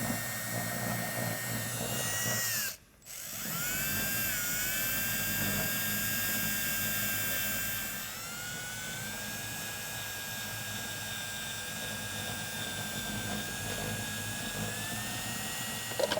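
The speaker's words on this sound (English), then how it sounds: "after that I can use a eraser wheel" An eraser wheel spun on a power tool, stripping emblem adhesive from a Tesla, gives a steady high, whining drone that drops out briefly near the start and then runs on, close and unbroken.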